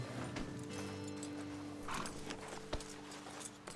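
Horses' hooves clip-clopping on the ground in Red Dead Redemption 2, a few soft, irregular steps nearby over a low ambient background, with no talking.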